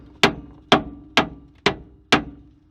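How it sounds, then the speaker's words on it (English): A hammer strikes the tie rod on a Ford F150 five times in an even rhythm, each blow a sharp, close metallic whack that rings briefly before fading. "normally you could smack this with a hammer, and sometimes it'll shock free"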